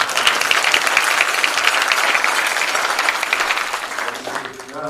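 Crowd at a naturalization ceremony for new citizens applauding, a loud, sustained, even rush of many hands clapping that tapers slightly before a voice begins at the very end.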